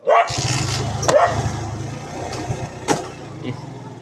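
A dog barks in sharp bursts on a village road, a few separated yelps and woofs over a steady low engine-like rumble and outdoor background, fairly close and moderately loud.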